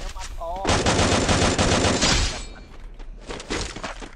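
Rapid bursts of Free Fire video game gunfire, loud and dense for about two seconds, then a pause and a further sharper volley, with faint voices underneath.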